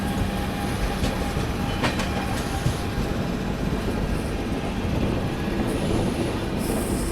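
An Indian Railways train rolls steadily along the line near Prayagraj while being overtaken, a continuous loud rumble of wheels on track with faint rail squeal and scattered metallic knocks, no voices.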